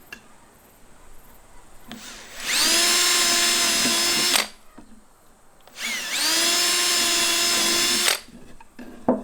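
A power drill drives screws into a butcher block tabletop in two long, loud whirring bursts of about two seconds each, separated by a quiet pause, with faint handling noise between.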